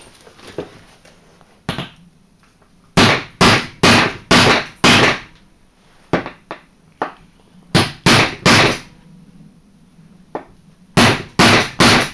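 Hammer blows drive a punch through an old piece of leather, landing as sharp, loud strikes in quick bursts of three or four separated by pauses, with a few lighter taps between.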